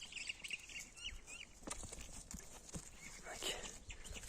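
A large horse, a thin young animal being sold, is led along, its hooves clip-clopping in an uneven rhythm close by, with roosters and chickens calling and someone talking over it.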